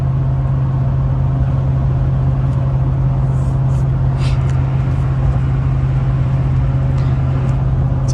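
A RAM 1500 pickup with a Hemi 5.7L V8, Magnaflow 3-inch exhaust and Nitto tires cruises on a windy freeway, giving a steady, close, low engine and road drone that holds level throughout with no talking.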